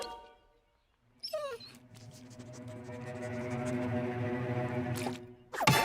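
A Xoloitzcuintle dog makes a long, rising whine and moaning vocalization, close and fairly quiet, with a brief squeaky yelp near the start and a noisy rustle at the end.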